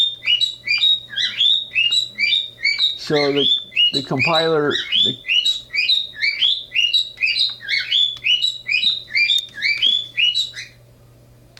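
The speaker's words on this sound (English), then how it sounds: "There's my birds." Small birds chirp in rapid repeating bursts close to the microphone, keeping up a continuous high twittering while someone speaks briefly in the middle.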